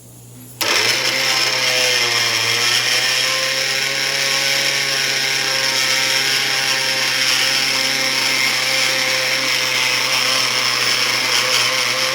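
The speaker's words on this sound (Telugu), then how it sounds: "ఇప్పుడు ఇది మిక్సీ పట్టాలండి." A kitchen mixie grinder switches on abruptly and whirs loudly and steadily as it grinds raw mango, sesame and coarse salt for pickle, a constant close motor drone with no talking.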